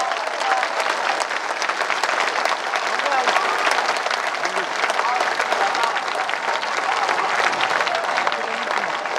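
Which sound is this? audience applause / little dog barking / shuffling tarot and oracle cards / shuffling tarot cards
audience applause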